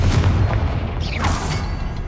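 A Confringo blasting spell explodes in Hogwarts Legacy, giving a deep booming burst over rumbling low-end, with a descending whooshing streak midway; no talk.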